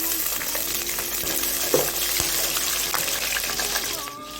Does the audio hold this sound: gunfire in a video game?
no